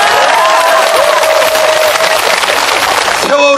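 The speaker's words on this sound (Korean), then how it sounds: "박수 치세요." Rally crowd of farmers and workers protesting rice market opening applauds in a dense, steady wash of clapping for about three seconds, with voices and a sustained tone mixed in, then it breaks off abruptly.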